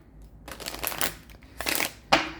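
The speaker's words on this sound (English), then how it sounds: "let's go ahead and let me shuffle this." Three quick bursts of tarot card shuffling, crisp riffling rustles separated by short pauses, close up with no talking.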